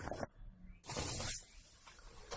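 Ground masala spices (pepper, cumin and chilli powder) sizzling and crackling in hot oil for a mushroom gravy, a loud steady hiss with bursts of spitting, close and alone.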